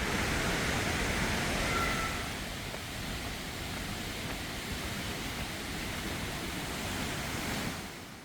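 A large waterfall roars steadily beside a gently sloping trail along a columnar-jointed valley in Yeoncheon, a dense, loud wash of falling water that fills the whole stretch without pause.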